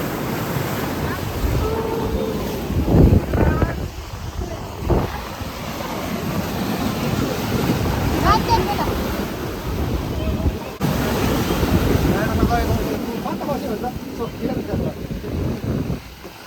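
Sea waves wash against the rocky shore at Enoshima, Japan, a steady broad surf roar with surges and wind buffeting the microphone, continuous and fairly loud throughout.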